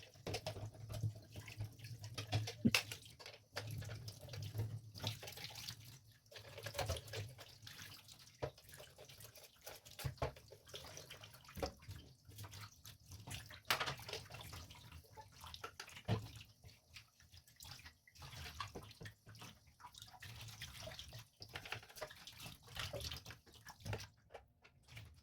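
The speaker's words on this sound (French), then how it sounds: "Ici, je nettoie le bol du bas." Running tap water splashing over the stainless steel bottom bowl of a Kuvings AUTO10 juicer being rinsed in a sink, a continuous irregular wash with rattling and bumps, close and fairly loud throughout.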